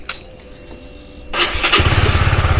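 A 2021 Honda Sonic 150 motorcycle, a used auction unit, cranks briefly after a quiet moment, then catches and settles into a close, loud, rapidly pulsing idle.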